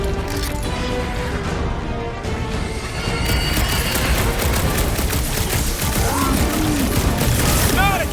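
Dense, continuous gunfire and crashing combat effects in the Guardians of the Galaxy video game, loud and steady throughout with bursts of shots, whooshing sci-fi sounds and brief chirpy tones near the end.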